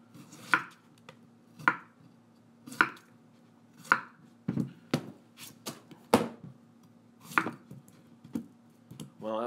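A knife chops potatoes into very thin slices, the sharp cuts landing roughly once a second as crisp, close taps on a board, with no talk over them.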